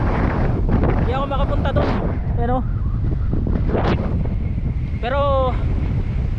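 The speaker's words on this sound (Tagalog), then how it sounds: "Kaso ang lakas ng hangin." Strong wind buffets the microphone beside a road, a loud, continuous roaring rush, while someone speaks over it in a Filipino language.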